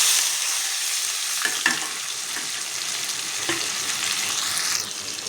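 Onions and garam masala frying in a pan with bay leaf for a gongura egg curry, a steady close sizzle with a few scraping stirs and light clinks of a spoon, no voices.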